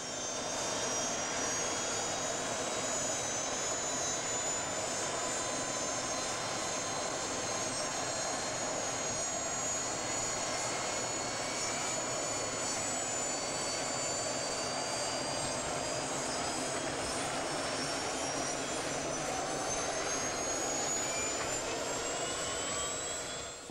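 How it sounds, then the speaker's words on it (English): A helicopter engine drones near a polar bear, a loud, continuous whine and rumble held steady throughout, with high tones slowly rising and no talking. "The main hope now is that the noise of the helicopter will frighten him away."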